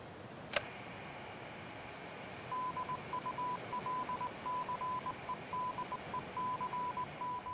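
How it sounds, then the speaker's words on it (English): Repeating Morse code beeps play in a video game, a steady pitched tone keyed into a long run of short and long pulses, clear and alone over a faint hiss after a brief sharp click. "followed by Morse code repeating a phrase which is around 15"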